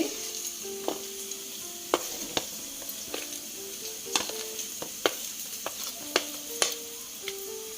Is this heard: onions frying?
yes